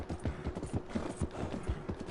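Horse hooves clip-clop in the Red Dead Redemption video game, a close, steady trotting rhythm of soft thuds repeating about four times a second.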